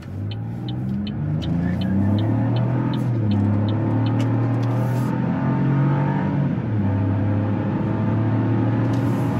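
A 2024 Buick Envista ST accelerates while driving, its engine droning and rising in pitch through several gear changes, loud and steady from inside the cabin with a faint repeating chime.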